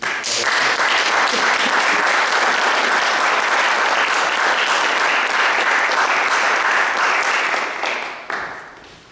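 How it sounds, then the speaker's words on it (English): Big round of applause from an audience as two speakers come on stage at a speech event, dense and loud throughout, tapering off and breaking up near the end. "So can I please get a big round of applause for Dil and Simon to come on stage."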